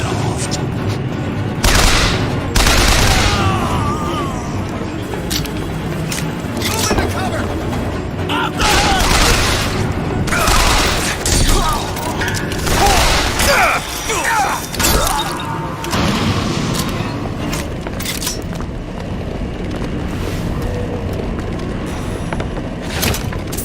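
Repeated booming rocket explosions and gunfire in the video game BioShock Infinite, loud and dense across a chaotic battle with shattering debris and mechanical clatter, with occasional voices over it.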